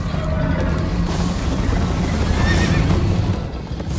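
A horse neighs loudly in Minecraft Story Mode during a chase on horseback, a sustained whinny over a dense bed of game noise and hoofbeats.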